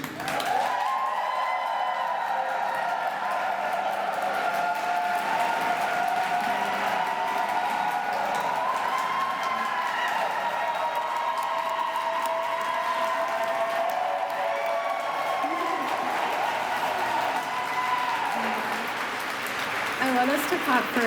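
A crowd at a Trans Day of Visibility rally applauds and cheers at length, with sustained clapping mixed with voices and whoops that carry on without pause.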